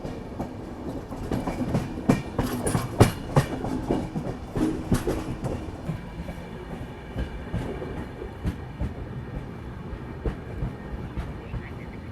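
The Ahmedabad–Gorakhpur Express passenger train rolls steadily along the rails near Sant Hirdaram Nagar station, with a continuous rumble and irregular clickety-clack of wheels over joints, heard from close by throughout.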